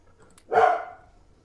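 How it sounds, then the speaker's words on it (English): A dog barks once inside the Factorio game, a single short, fairly loud yelp that rises sharply and fades within half a second against a quiet background. "Dog is yelling at something."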